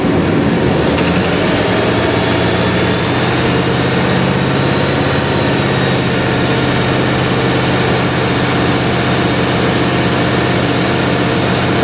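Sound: pickup truck engine revving

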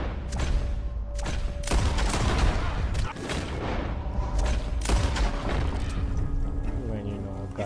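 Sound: gunshots from a barn in video game Red Dead Redemption 2

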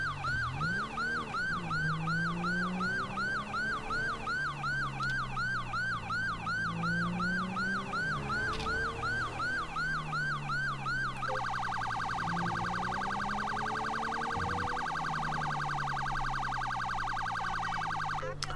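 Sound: police car siren in video game GTA 5

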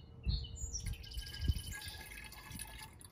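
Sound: homemade grape wine being poured into a bottle

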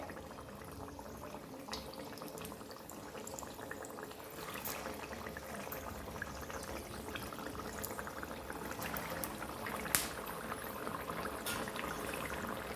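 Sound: potato and semolina vada frying in hot oil

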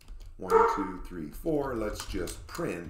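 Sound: dog barking

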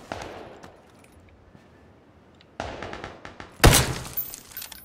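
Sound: gunfire from a video game, PlayerUnknown's Battlegrounds

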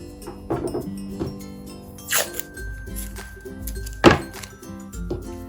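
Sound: cutting cord

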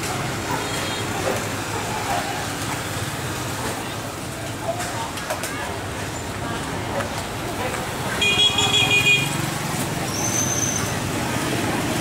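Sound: street traffic at a market intersection along the Mekong

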